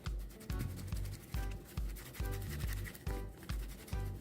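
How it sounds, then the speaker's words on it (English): A closed container of homemade dry rub seasoning powder is shaken hard in quick rhythmic strokes, each one a close, gritty rattle and scrape repeating about twice a second. "I typically just close it up and give it a good shake as well."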